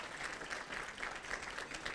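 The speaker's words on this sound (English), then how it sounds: "So if you guys can go ahead and give John a round of applause." Audience applause at an awards and scholarships ceremony, steady clapping from a crowd that carries on evenly through the whole stretch at a modest level, with no voices over it.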